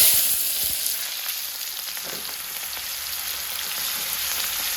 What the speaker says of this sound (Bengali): পেঁয়াজ কুচিগুলো করার মধ্যে দিয়ে দিলাম একটু লাল লাল করে ভেজে নেবো